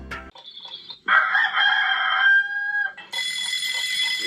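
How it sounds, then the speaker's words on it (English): A rooster crows loudly and close, a long strained call in several rising and falling segments, with no other sounds around it. "It's a cockerel."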